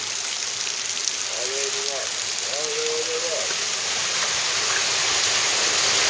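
Cold water rushes continuously inside a cave near the Beusnița waterfall, a broad hissing flow like a stream or trickle in an enclosed space, with a brief faint voice early on.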